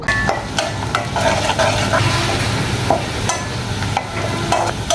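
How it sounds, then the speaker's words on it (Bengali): Sliced onions frying in hot oil for birista, a loud, close, unbroken crackling sizzle with occasional stirring scrapes and taps, with no talking over it. "সেই পেঁয়াজ কাটাটাও হচ্ছে আমি সেই তেলে দিয়ে আমি হচ্ছে ব্যারেস্তা করে নিব"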